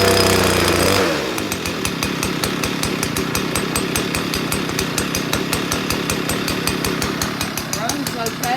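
Stihl BR 200 backpack blower engine catches after a pull start, then runs loud and close with a rapid, slightly uneven two-stroke chatter that holds steady throughout.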